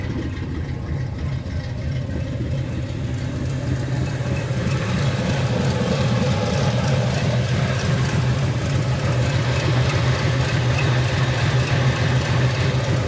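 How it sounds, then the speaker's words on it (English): Cold-started 1968 Chevrolet Camaro V8 idling, a steady loud low rumble with a continuous throbbing pulse that holds even for over ten seconds, no voices. "This is a cold start."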